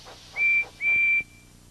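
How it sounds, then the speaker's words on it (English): A cartoon tank engine, Percy, sounds his train whistle in two loud, clear, sustained blasts, the second longer than the first, with a faint trailing echo. "Now, Percy's whistle sounds very loud."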